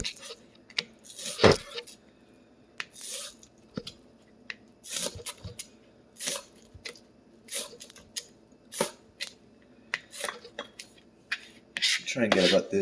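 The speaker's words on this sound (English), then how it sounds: "I'm gonna try and dice them as small as I can" A knife dicing food on a cutting board, a series of crisp, separate chopping clicks and scraping strokes at close range in an irregular rhythm, with a denser scraping flurry at the end.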